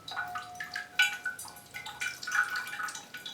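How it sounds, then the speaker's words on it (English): Water drains down through a potted plant, with close, quiet drips, trickles and small gurgles scattered irregularly across the clip. "as that water goes down through, it's sucking in fresh air behind it"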